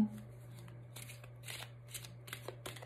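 A deck of oracle cards is cut and one card drawn, with a few soft papery riffles and slides over a quiet, humming room while someone speaks.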